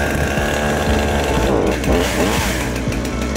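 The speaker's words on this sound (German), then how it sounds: "Säge läuft mit erhöhter Drehzahl." A Husqvarna chainsaw engine runs steadily at high revs during a cold start, loud and close, with a continuous buzzing roar throughout.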